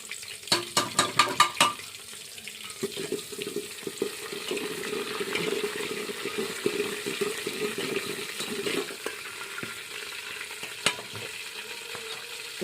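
Garlic drops into hot oil already crackling with cumin and mustard seeds, setting off a busy sizzle with sharp pops and stirring clatter at first, then a steady spitting fry, close and fairly loud.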